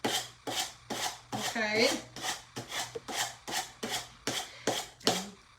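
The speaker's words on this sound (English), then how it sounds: "take your good sander and go down" A hand sander works over a DIY wooden cutting board cookbook holder in steady, repeated rasping strokes, about a dozen close, loud passes in an even rhythm, with a brief spoken word at one point.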